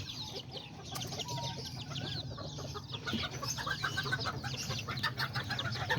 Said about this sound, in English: And that's the big rooster right there.